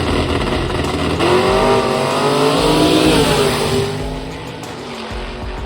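A gasser-style drag car roars down a dragstrip under hard acceleration, a loud, sustained engine note rising in pitch through the gears, then easing off as the car pulls away.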